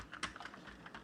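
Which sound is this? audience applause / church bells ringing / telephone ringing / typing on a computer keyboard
typing on a computer keyboard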